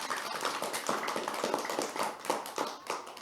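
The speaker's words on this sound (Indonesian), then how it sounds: "Kita kasih tepuk tangan terlebih dahulu untuk Syarifah" A small group claps for a student's national-champion taekwondo performance at a primary school, a brisk, fairly close burst of applause lasting a few seconds with no talking.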